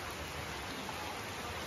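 Heavy monsoon rain falls at midnight near a village prayer hall, a faint, even hiss of rain that holds steady with no voices.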